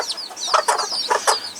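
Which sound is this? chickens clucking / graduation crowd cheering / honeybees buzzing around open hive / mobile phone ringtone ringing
chickens clucking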